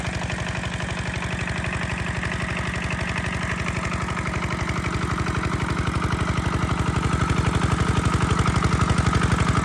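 A single-cylinder Emi 8.5 185 engine pumping irrigation water from a 4-inch boring thumps in a quick, regular rhythm, loud and near throughout, gradually growing a little stronger, with no one talking.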